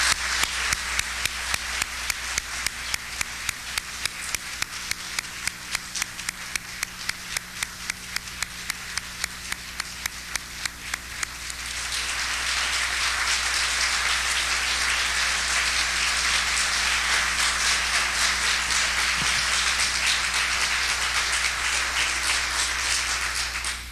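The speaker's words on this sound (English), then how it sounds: "Let's give them all a great round of applause." An audience at a 1989 YMCA Hall of Fame induction ceremony claps in a steady, rhythmic beat for about half the time, then breaks into dense, continuous applause that carries on to the end.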